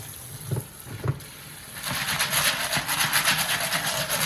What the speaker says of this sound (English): I'm going to give those a rinse with some cold water.